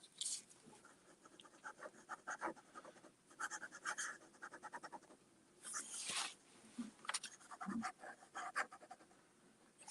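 A fine-nibbed pen scratching across paper in short bursts of strokes with pauses between, close and faint, no speech.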